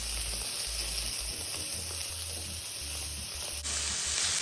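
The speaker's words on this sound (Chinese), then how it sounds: "煎中鸡肉要翻个面" Chicken pieces frying in a wok with a little oil, producing a continuous close sizzle and hiss with a low rumbling undertone and a brief scrape near the end.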